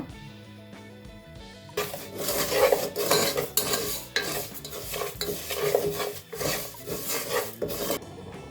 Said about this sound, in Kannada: ಅದೇ ಬಾಣಲೆಯಲ್ಲಿ ಅದು ಕರಗ್ಬಿಟ್ಟು ಒಂಚೂರು ಕ್ಯಾರಮಲ್ ಆಗೋವರೆಗೆ ಇದನ್ನ ಫ್ರೈ ಮಾಡ್ಕೋಬೇಕು ಶುಗರ್ನ